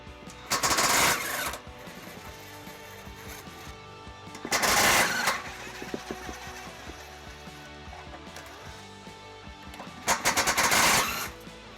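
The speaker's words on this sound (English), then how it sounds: "We'll use the deep well sockets to remove those." An impact wrench spins off bolts with deep well sockets on a 2016 Dodge Grand Caravan during a trailer hitch installation, in three loud rattling bursts of about a second each over a steady background hum.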